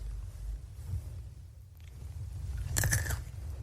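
A sharp, brief crunch near the end as a brittle edible insect is bitten, after a few quiet seconds of low background rumble.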